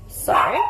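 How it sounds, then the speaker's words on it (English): A pet dog barks indoors in a short, loud burst, with a voice speaking over it. "I actually had to stop and go and stop her from barking."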